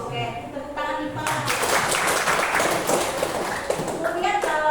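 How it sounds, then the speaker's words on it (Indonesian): A class in an online business lesson breaks into a few seconds of lively group hand clapping, with voices speaking just before and just after the applause. "Ya, tepuk tangan ya."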